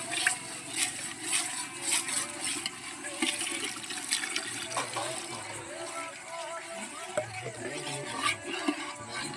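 Water is poured into a green pigeon pea curry with spices, making a continuous rushing, splashing pour for several seconds, with faint speech in the background.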